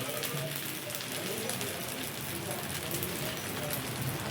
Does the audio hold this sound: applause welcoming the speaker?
no